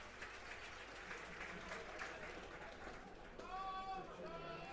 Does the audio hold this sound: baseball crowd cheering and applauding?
yes